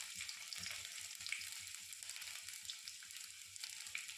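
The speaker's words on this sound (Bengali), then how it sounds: "এবার রসুন কুচি দিয়ে দেব। আর দিয়ে দেবো আদা কুচি।" Chopped garlic and ginger frying with five-spice in hot oil for a dhaba-style egg tadka, a steady soft sizzle with faint stirring taps, moderately quiet and without voices.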